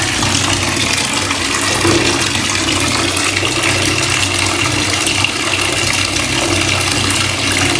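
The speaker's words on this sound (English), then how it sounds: "I'm going to just fill up my bath" Water runs steadily from a tap into a bathtub as it fills, a constant full rushing and splashing that holds at an even level throughout with no talking.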